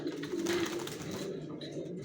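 Racer pigeons coo softly in a low continuous murmur, fairly faint and close, over background room noise.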